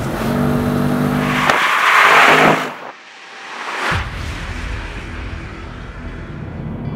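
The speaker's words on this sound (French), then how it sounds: "au premier abord, c'est un V8 qui est très progressif, doux, réactif, plein comme un œuf, bref, très civilisé" A 2019 BMW M850i's V8 engine accelerates nearby, revving up loudly to a peak, dropping off abruptly, then building again with a steady throaty drone, alone without speech.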